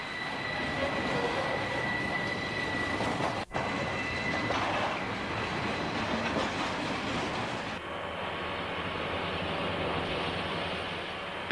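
A Southern Pacific westbound train approaches on the Coastline near Horseshoe Curve, a steady rumbling roll with a faint squeal and one sharp dropout, continuing at even loudness throughout.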